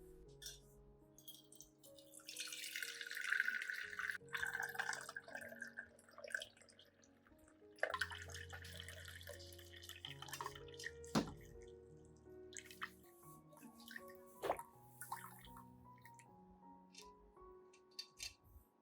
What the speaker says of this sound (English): I filter out the residue, keeping only the garlic extract solution for use on the orchid plant.